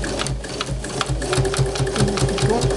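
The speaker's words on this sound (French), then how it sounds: "Une marche arrière pour bloquer notre couture." Sewing machine stitching backward to lock the seam on a homemade fabric face mask: a steady, close, rapid mechanical chatter with a regular pulsing rhythm throughout.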